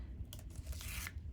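Score tape being peeled off its backing while assembling a tag book cover, a brief close ripping, tearing rasp with faint crinkle in an otherwise quiet room.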